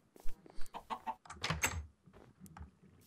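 A Minecraft chicken clucks in a survival game, a quick run of short, choppy clucks and squawks over about three seconds, fairly quiet and uneven in rhythm.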